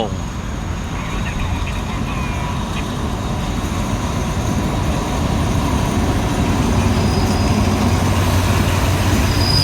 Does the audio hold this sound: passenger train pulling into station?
yes